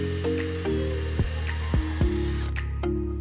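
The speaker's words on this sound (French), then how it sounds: "Pour les perçages propres, il faut être à vitesse maximum quand on perce du bois." Power drill spinning at full speed while boring into wood, a loud steady whine with several short surges as the bit bites into the workpiece.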